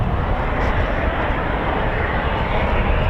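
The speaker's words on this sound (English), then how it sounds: "Typhoons are just taxied down there." Loud, continuous jet engine roar from RAF Eurofighter Typhoon FGR4 fighters taxiing nearby, a dense steady rumble with no break across the moment.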